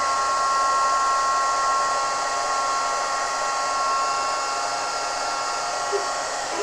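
A heat tool blows steadily to melt embossing powder on a handmade card, a loud, continuous, even whirring hiss from start to finish.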